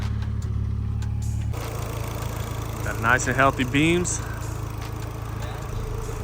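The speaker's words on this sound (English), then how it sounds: "So now we'll just show you guys a little more of it idling, get a little sound clip." A custom 1974 Datsun 620 pickup engine idles steadily, a low continuous hum throughout, with someone speaking briefly over it midway.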